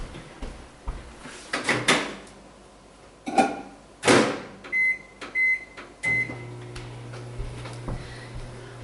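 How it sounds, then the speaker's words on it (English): Microwave oven heating a small amount of butter in a kitchen, with door clicks and handling clunks at first, then a steady low hum of the running oven and a few high beeps, fairly close and clear, no talking. "Put it in the microwave for 30 seconds."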